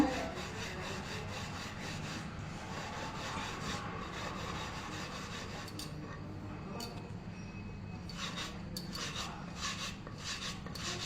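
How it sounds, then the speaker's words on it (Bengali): Knife cutting food into small slices on a board for chushi payesh, a soft continuous rasping and scraping with occasional light clinks, close and fairly quiet, no speech. "এবারে আমি কেটে নেব দেখুন প্রথমে এভাবে ছোট ছোট করে লেসি করে নেব"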